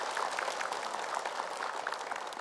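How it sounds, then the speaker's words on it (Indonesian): Studio audience applause at an Indonesian morning religious talk show, a steady, dense patter of many hands clapping, moderately loud and continuous with no voices. "Tepuk tangan untuk Anda semuanya."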